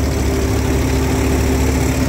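A Swaraj 742 XT tractor engine pulls an 8-foot rotavator through a field, a loud, steady low engine drone with continuous mechanical churning and no voices.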